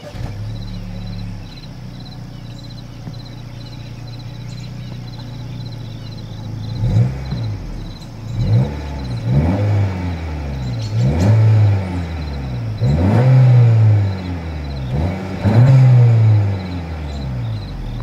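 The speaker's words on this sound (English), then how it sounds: "As always, here is that exhaust clip." A 2024 Honda Civic's turbocharged engine rumbles at idle through its exhaust, then revs repeatedly in rising and falling bursts that grow louder, close and alone with no talk.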